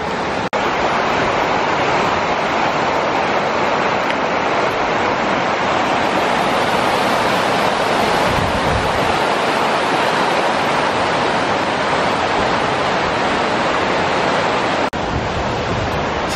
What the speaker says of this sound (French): Regarde-moi cette cascade